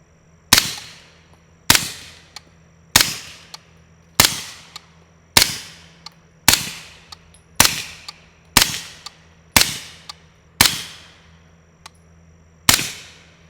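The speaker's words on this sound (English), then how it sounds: "You definitely get like a little bit of a first round pop with every one of the ammos with the Omega 9K" Suppressed 9mm shots from a SilencerCo AR9 carbine fitted with an Omega 9K suppressor, eleven sharp reports spaced about a second apart, each with a brief crisp pop and short decay, close and alone.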